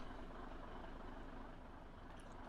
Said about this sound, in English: I love the sound of this truck too. It's the Mack engine.